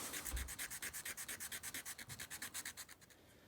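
Hand sanding the cupping of a propeller blade, a quick regular series of rasping back-and-forth strokes, close and fairly faint, slowing slightly toward the end with no voices.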